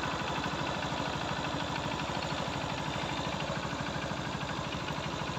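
A Honda TMX Supremo motorcycle idles close by after a carburetor repair, a steady, even low putter with a fast regular pulse throughout and no voices.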